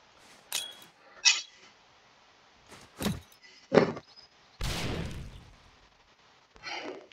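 A thrown grenade-style explosive in the 7 Days to Die game goes off in a single short, full-bodied boom, preceded by a few scattered clicks and soft thuds.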